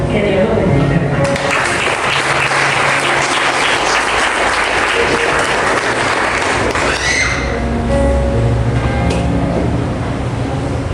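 Loud, sustained applause fills a church congregation during an evening Christian service honoring Jesus Christ, a dense wash of clapping with thuds and a few voices mixed in throughout.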